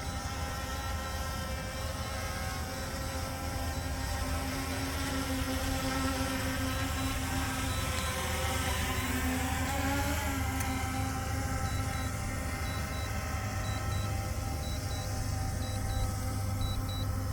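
A DJI Mini 3 drone hovers near a helipad with a steady, close, high-pitched propeller whine that bends briefly in pitch midway, with no voices.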